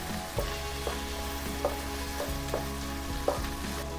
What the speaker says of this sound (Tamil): வெங்காயம் பச்சை மிளகாய் எல்லாம் எண்ணெயிலே நல்லா வதங்கணும்பா